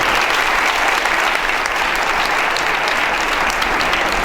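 A hall audience at a speaking event breaks into loud, sustained applause, close and continuous with no pause.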